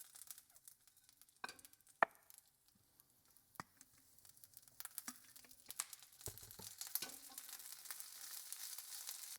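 Garlic and snow peas frying in a carbon steel wok, the garlic already burning: a quiet, crackling sizzle with scattered taps and scrapes, building to a denser, brighter hiss in the second half, no voices.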